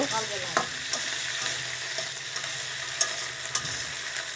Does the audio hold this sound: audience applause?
no